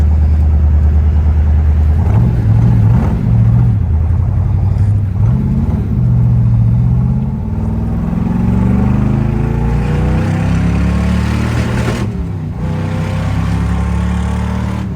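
A restored 1965 Corvette with a 396ci/425hp big block engine rumbles loudly while driving, a deep steady exhaust drone with revs rising and falling through gear changes, close and continuous for the whole stretch.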